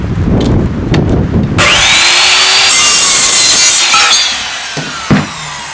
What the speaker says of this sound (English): Go ahead and cut through a metal stake.